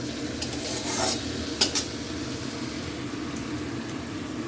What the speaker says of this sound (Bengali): আমি একটু কষিয়ে নেব আলুটা, মশলার সাথে কষিয়ে নিয়ে তারপরে আমি জল দিয়ে দেবো